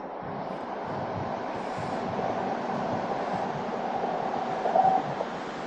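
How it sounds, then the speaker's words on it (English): A train moving slowly through a railway tunnel in Britain gives a steady, muffled low rumble that holds evenly and swells slightly near the end, heard from a distance with no talking. "The trains go slower through tunnels."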